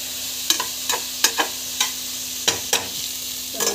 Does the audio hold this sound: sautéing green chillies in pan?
yes